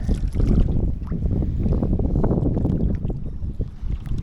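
Water sloshes and splashes against a small fishing boat hull during a jigging trip, with wind buffeting the microphone throughout.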